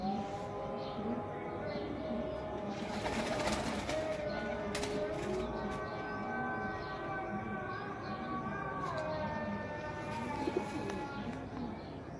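A large pigeon of the Teddy Lal Pari variety coos in rolling, repeated calls close by, alongside other birds and a steady background hum, with no voices over it.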